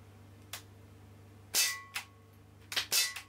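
Several sharp gunshots, fired one at a time at irregular intervals, as the last rounds of a magazine are emptied from a rifle on a single point sling; loud, close, with no talking.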